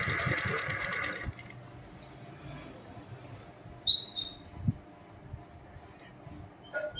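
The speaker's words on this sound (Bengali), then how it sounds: "এই দাগের ভেতর দিয়ে ওটা ঢুকিয়ে দিয়ে এবার সেলাই করছি" A sewing machine stitches a fabric strip onto the back of a blouse: a steady, moderately loud mechanical whirr for just over a second, then quieter intermittent handling and faint machine noise with a few small clicks.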